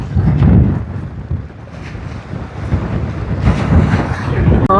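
Strong cyclone wind gusts buffeting the microphone near the Jaffna coast, a loud, roaring broadband rush that surges and eases over a few seconds with no clear speech.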